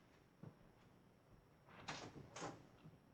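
A back door opening and then closing: two faint, muffled knocks less than a second apart, quiet and distant, with no voices.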